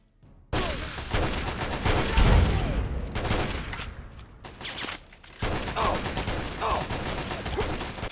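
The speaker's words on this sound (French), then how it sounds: "On se fait tirer de partout." Gunfire in Fallout 3's Operation Anchorage, with rapid bursts of automatic shots and heavy thuds coming almost nonstop and pausing briefly midway, with a player's voice talking over the shooting.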